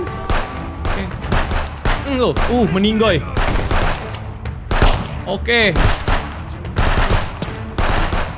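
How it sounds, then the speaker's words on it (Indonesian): Rapid gunfire in the video game Contraband Police, with dense bursts of shots running throughout under someone talking over the action. "Kita main tembak-tembakan"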